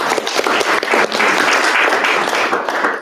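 Attendees at a September amateur radio club meeting break into steady applause, a dense, sustained patter of many hands clapping close by for about three seconds before easing off at the end.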